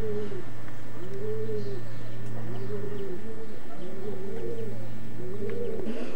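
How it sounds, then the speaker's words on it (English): A racing pigeon from the Jansen lofts at Weymouth coos repeatedly in a steady rhythm of low, rolling calls, close and clear over a constant low electrical hum, with no talking. "Yeah, he's a lovely pigeon, he's absolutely brilliant looking pigeon, isn't he?"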